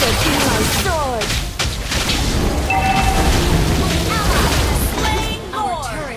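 A turret blows up in the mobile battle game Mobile Legends Bang Bang, a booming crash set among a dense clutter of game effects, chirps and sweeping tones, with announcer-style voice lines over the mix.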